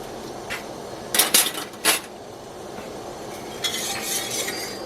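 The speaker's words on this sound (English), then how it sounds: "Keep that stirred around. Don't want it to burn on the bottom." Triple citrus jelly stirred in a pot on the stove, a few soft scrapes and clinks of the utensil against the pot coming in short bursts over a quiet kitchen background.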